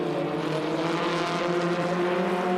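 Formula Ford race cars in close racing at Barbagallo Raceway, engines droning loudly and steadily as they pass, a continuous high buzzing roar with no commentary over it.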